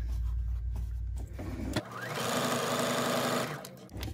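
A sewing machine stitches a fabric tube for an infinity scarf, running in a steady, close, continuous whir for about a second and a half mid-clip, with quieter handling noise before and after.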